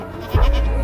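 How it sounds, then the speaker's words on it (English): A goat on a farm gives one short, close bleat, heard alone and fairly loud. "Callie, look at the goat"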